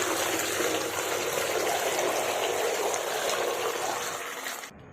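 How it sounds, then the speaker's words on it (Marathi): Water pours steadily into a vessel of raw mangoes for washing in a continuous rushing stream for several seconds, then stops abruptly. "याच्यामध्ये आपण दुसरं पुन्हा पाणी ओतून घेणार आहोत"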